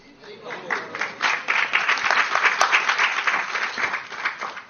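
Audience applause fills a temple hall during a Hindi devotional discourse on Krishna at an ISKCON temple, a dense, steady wash of many hands clapping that swells and holds for several seconds.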